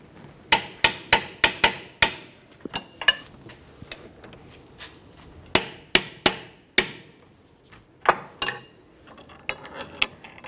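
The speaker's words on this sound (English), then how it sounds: "Let's get these torqued to 118 foot-pounds." A torque wrench tightens bolts on a 2012-2018 Nissan Altima during a lower control arm and ball joint job, with a string of sharp metallic clicks and clacks close by in uneven bursts, separated by short pauses.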